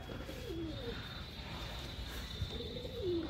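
Red racer pigeon cooing in two low, throaty phrases, one near the start and another near the end, against steady background noise and a faint high tone.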